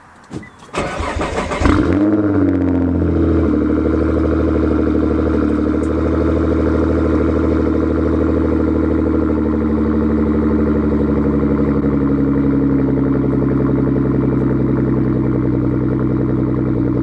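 Nissan GT-R with a straight pipe exhaust on a cold start: a starter whirr, then the engine catches with a loud bark and settles into a raspy, rumbling high idle that carries on steadily and close.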